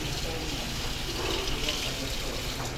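Water gushes steadily from a faucet under high pressure, a loud, constant broadband rush filling the whole clip at close range.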